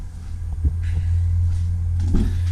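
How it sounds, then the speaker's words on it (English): A Ford Focus RS, running only a downpipe with no exhaust, starts up and settles into a loud, deep, steady idle rumble, with a few clunks and rattles over it. "gonna drive the RS. Let's have a quick little startup."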